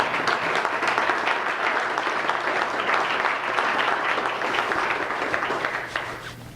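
Luncheon crowd at a club in Halifax applauding a provincial premier's speech, a close, full burst of clapping held at steady strength before tapering off in the final second.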